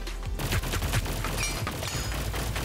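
Rapid weapon fire in the online shooter Hyper Scape, a dense run of close, loud shots that repeat without pause.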